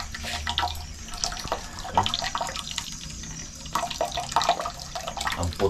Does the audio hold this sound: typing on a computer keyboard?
no